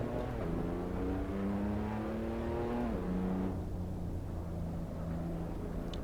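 Race car engine in a sim racing game, heard alone as a steady loud drone whose pitch climbs through the gears, dips at a shift near the three-second mark, then settles at a relaxed cruising tone.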